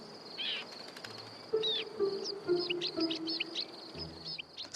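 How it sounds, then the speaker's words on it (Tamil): A mountain bird related to sparrows, with long wings and a strong long tail, gives repeated short, high chirps close by, mixed with soft bursts of wing flapping against quiet outdoor background. "ஸ்பாரோஸோட உறவினரான இந்த பறவைக்கு நீளமான இறகுகள், வலுவான நீண்ட வால், பாறைகளை பிடிக்க உறுதியான நகங்கள்"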